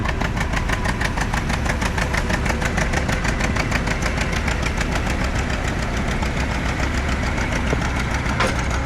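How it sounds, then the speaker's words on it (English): A John Deere D tractor engine runs while plowing a field, a steady, loud, rhythmic two-cylinder chugging with a rapid regular beat that holds throughout. "That's a John Deere D."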